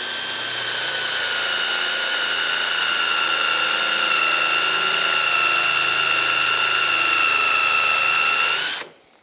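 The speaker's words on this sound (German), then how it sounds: "Für Part 1 bohren wir ein normales Loch." A power drill fitted with a bit that has a centering tip bores a plain hole, its loud, steady motor whine holding constant for about nine seconds before abruptly winding down.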